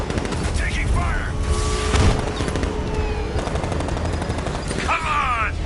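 Sustained gunfire in Batman: Arkham Knight, dense crackling shots running throughout with a heavier burst near the middle, mixed with shouted voices and game effects.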